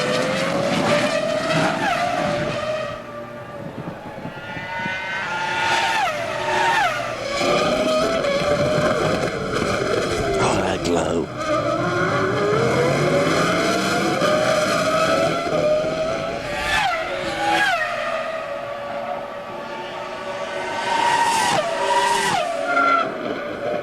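Formula 1 race cars, a McLaren and a Williams BMW, battle on the Canadian Grand Prix circuit, loud high-revving engines rising and falling through gear changes and braking as they pass close and fade.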